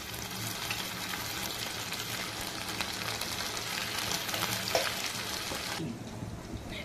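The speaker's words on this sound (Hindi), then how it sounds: "सारे टिक्की बनाकर हमने तैयार कर लिए हैं, अभी इसे हम कर देंगे फ्राई" Raw minced meat kebabs sizzle steadily in oil in a pan over a medium flame, a dense continuous frying hiss that holds for several seconds before dropping slightly quieter.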